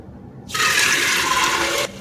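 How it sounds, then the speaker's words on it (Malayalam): Chickpeas are rinsed in water in a home kitchen while preparing kadala curry. A single loud rush of splashing, pouring water starts suddenly, runs steadily for about a second and a half, then cuts off, with no talking. "അപ്പം നല്ലവണ്ണം ഒന്ന് കഴുകിയെടുക്കാം നമുക്ക് കടല"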